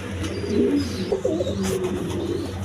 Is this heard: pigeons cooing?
yes